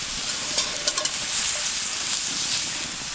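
Bacon, Brussels sprouts, red onion, raisins and a balsamic reduction sizzle steadily in a pan over a campfire, with a few soft stirring clicks near the start under a constant bright hiss.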